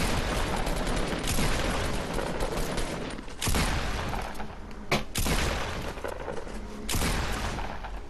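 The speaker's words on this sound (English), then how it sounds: "someone's shooting me" Heavy gunfire in Fortnite, dense loud bursts of shots packed back to back with brief gaps and a few sharp single cracks between volleys.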